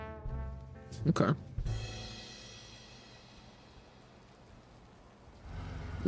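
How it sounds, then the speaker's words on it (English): Steady hiss of rain falls in the noir detective game Blacksad, swelling after a brief burst of voice and music near the start and holding as a soft, even wash until a louder swell at the end. "It's raining, yes."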